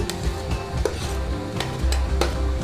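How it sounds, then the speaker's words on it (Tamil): Vegetables, carrots, beans and potatoes, being stirred into rice in a pan, with steady scraping and clinking of a spoon against metal over a soft sizzle, close and continuous with a few sharper knocks. "உருளைக்கிழங்கு இதில் போட்டு நல்லா மிக்ஸ் பண்ணுங்க."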